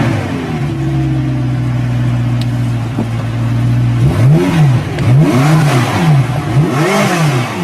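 A sports car engine with a tuned exhaust idles with a deep, steady burble, then revs up and down repeatedly in rhythmic throttle blips through a throaty exhaust.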